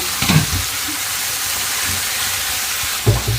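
Brinjals frying in a hot tempering with chilli powder and turmeric, a steady soft sizzle running throughout, with a couple of brief louder stirs or clatters near the start and end.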